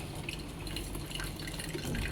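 An Electrolux coffee maker brewing tea, a steady close trickle and drip of liquid running continuously with soft splashy texture throughout.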